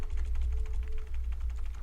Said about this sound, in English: I'm typing here, folks.